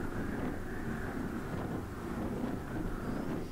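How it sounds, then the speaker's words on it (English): Loud rushing wind roar in a Diamond DA40 aircraft in flight, nearly burying the low engine drone beneath a steady, unbroken wash of air noise. "you can barely hear the sound of the engine over that air"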